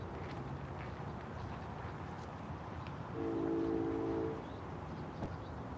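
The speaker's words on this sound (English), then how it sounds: "You got a horn." A distant train horn sounds one steady blast of about a second, over a constant low rumble of background noise.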